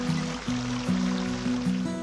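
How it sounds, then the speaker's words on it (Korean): Steady rushing water from a stream flows continuously, with a low tonal hum running underneath. "물소리가 들리고요."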